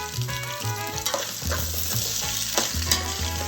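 Garlic, cilantro and seeds frying together in a pan for pipian verde, a steady sizzle broken by the scrape and clatter of stirring, close and fairly loud with no talking.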